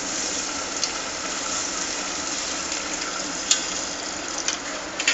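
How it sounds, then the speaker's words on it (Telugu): Water pouring steadily into a pan for cashew upma, a constant hissing stream with a few faint clinks near the end. "వాటర్ కూడా పోస్తున్నాను అనమాట."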